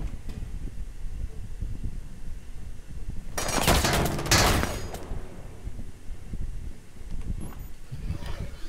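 A mounted light machine gun fires in a shooter game, firing sustained rapid bursts in the middle of the clip over constant game noise and low background sounds.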